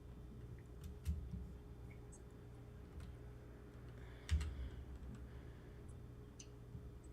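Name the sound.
computer keyboard typing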